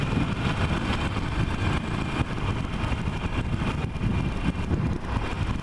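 A Harley-Davidson 48 1200 motorcycle engine runs steadily, a continuous low rumbling drone heard up close without any talk.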